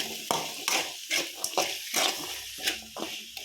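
Boiled peas frying in a pan with ginger-garlic paste for spinach masala rice, heard as irregular scraping and clattering strokes of a spoon against the pan over a soft sizzle, close and moderately quiet.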